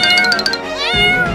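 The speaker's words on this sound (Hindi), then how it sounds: "ये तो बहुत बड़ी बिल्ली है।" A cartoon cat meows loudly in a drawn-out, wavering call over a lively cartoon soundtrack, close and clear.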